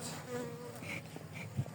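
Close buzzing of Carniolan honeybees at a hive, a steady droning hum with wing tones rising and falling as insects fly past.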